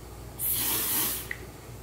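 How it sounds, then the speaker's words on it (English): A single long hiss of Bath & Body Works Cooling Aloe Mist spraying close by, lasting under a second, then a faint click afterward. "I'm going to spray this one too."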